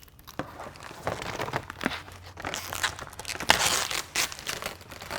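Crinkling cellophane packaging handled and pulled away from a sticky backing during a Ford Ranger window deflector install, with irregular close crackles, rustles and tearing bursts, loud and unaccompanied by speech.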